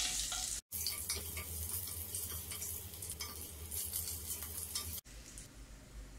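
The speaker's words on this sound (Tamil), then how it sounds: "ஒரு ஸ்பூன் கடமிளகு, கேஷ்யூநட், ஜிஞ்சர், இது எல்லாத்தையும் நெய்யில் ரோஸ்ட் பண்ணிடலாம்." Black pepper, cashews and ginger roast in ghee for a kodo millet pongal, giving a steady crackling sizzle with light stirring scrapes, close and moderately quiet, broken by two brief cuts to silence.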